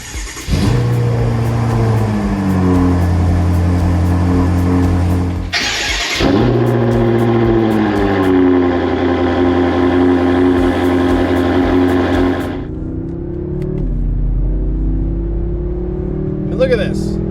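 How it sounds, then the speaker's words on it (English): A BMW M6 Gran Coupe engine fires on a cold start, a loud starter burst flaring into a high, steady idle that later settles lower, heard up close with speech over the engine. "BMW M6 cold start"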